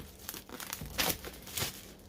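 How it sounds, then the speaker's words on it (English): Plastic packaging around an MSI RTX 3070 Ti Gaming Trio graphics card box crinkles and tears as it is cut open, a run of close, sharp rustling bursts with the loudest crackles near the middle and end. "I start cutting the plastic."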